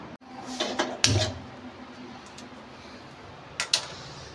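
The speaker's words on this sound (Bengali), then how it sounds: "এবার কড়াই চাপাবো" A metal wok (kadai) set onto a home kitchen stove gives a few sharp clanks and knocks, one solid thud near the start and another pair later, with quiet between.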